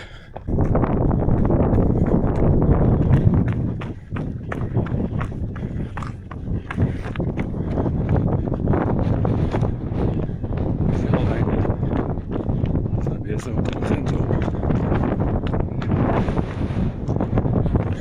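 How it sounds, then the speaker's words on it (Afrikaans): Strong wind buffeting an Osmo Action 6 action camera microphone during a run, a loud continuous roaring rumble with gusty surges throughout and what sound like faint footsteps underneath. "Wind is al so veel."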